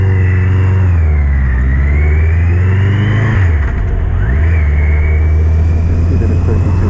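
A Yamaha XJ900 Diversion motorcycle engine revs loudly and close up, idling steadily and then blipping sharply up and back down before settling into idle again, with no talking.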